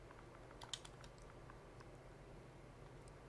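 Typing on a computer keyboard while entering a part order in a car mechanic game: a short run of soft, quiet key clicks, faint and close, with a slightly louder tap among them.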